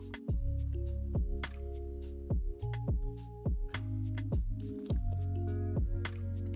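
Coffee pot dispensing hot water with a steady run of plopping, squishy drips, each drop loud and close, falling in an irregular rhythm with no voices.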